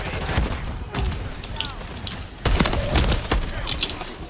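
Gunfire strikes the player's character in a shooter video game, with rapid bursts of shots and thudding impacts clustered in two loud stretches, mixed with game noise and a voice talking over it.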